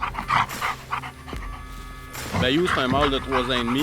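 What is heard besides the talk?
dog panting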